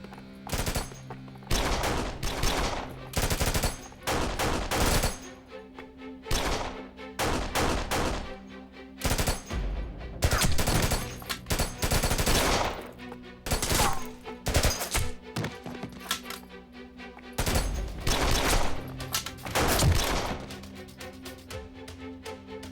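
Rapid bursts of gunfire, including machine-gun volleys and single shots, rattle loudly and continuously with short pauses between bursts, in an action scene.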